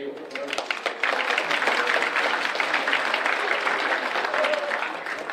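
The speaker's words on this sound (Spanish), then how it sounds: "Un aplauso para ellos." Audience at a university entrepreneurship and innovation fair applauds the speakers, steady dense clapping at moderate distance that builds after a second and holds through to the end.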